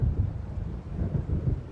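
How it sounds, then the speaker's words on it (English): Low rumbling thunder from an approaching storm over waves in Alan Wake, a steady deep roll with slow swells, fairly loud and without voices. "It seems there's a storm coming"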